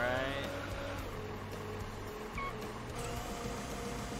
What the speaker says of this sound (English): We're just going to drive over those bolts.